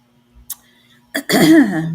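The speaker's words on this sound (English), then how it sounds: "I still got this cough that it's going away, but it's not totally gone yet" A single close cough with a rough, throat-clearing edge, rising out of near silence after a faint earlier rasp.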